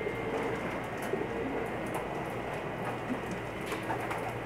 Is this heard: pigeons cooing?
yes